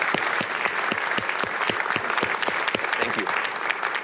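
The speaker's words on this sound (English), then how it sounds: "Why don't we give Darryl and Nancy a round of applause?" Sustained audience applause after keynote speakers at the SEG 2018 conference, dense steady clapping from a large crowd filling all four seconds at even loudness.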